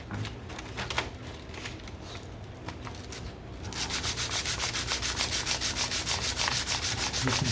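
Sandpaper rubs against a custom harmonica slider, first softly and irregularly, then switching to fast, even, rhythmic back-and-forth scrubbing strokes that grow louder near the end.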